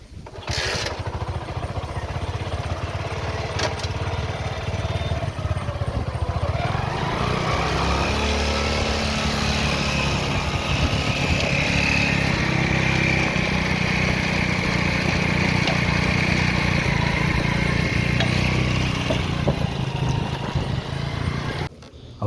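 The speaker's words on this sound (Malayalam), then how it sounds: "നമ്മ ബൈക്ക് ഉപയോഗിച്ചിട്ടാണ് വല വലിക്കുന്നത്" A motorcycle engine drones continuously as it hauls a Chinese fishing net on the Kerala shore, a steady mechanical rumble that rises and settles over a long stretch.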